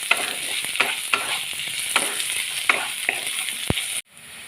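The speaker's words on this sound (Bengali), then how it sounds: "এগুলোকেও আমি পেঁয়াজের সাথে খুব ভালো করে ভেজে নেব।" Onion, ginger and garlic frying in a pan, a bright continuous sizzle punctuated by sharp spatula knocks and scrapes as the mix is stirred, close by, then cutting off abruptly near the end.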